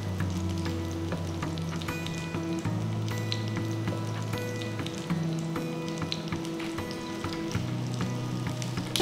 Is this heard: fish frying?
yes